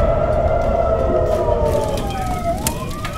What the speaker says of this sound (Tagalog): Ang mga sirena umalingaw-ngaw sa mga kalsada.